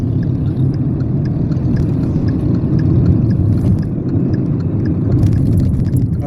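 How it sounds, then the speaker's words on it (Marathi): Steady low engine and tyre roar of cars speeding along National Highway 48 on the Mumbai–Bangalore route near a flyover, heard continuously from inside or beside a moving vehicle, with faint rattles and scrapes on top. "गाड्या स्पीडने पण खूप चालतात इथे."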